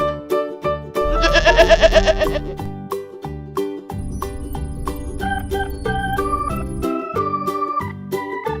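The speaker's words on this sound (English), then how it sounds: "Sheep." Sheep bleating from a children's alphabet puzzle toy, heard over bright, steady music, with a wavering animal cry near the start among the musical notes.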